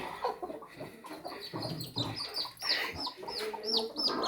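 In a village, a hen clucks softly while several chicks peep in quick, high-pitched chirps, close by and fairly quiet, with no voices.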